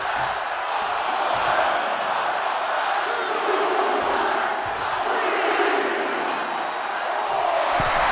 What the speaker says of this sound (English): And Jade is getting the crowd going.